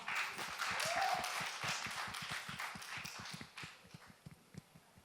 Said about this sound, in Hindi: जोरदार तालियों के साथ स्वागत हमारी खूबसूरत उर्वशी का